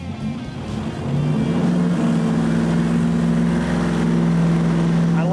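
Turbocharged 5.3-liter LS V8 on a power run, roaring loudly and steadily as it climbs through a sustained pull, with a rising drone close by and no talk over it.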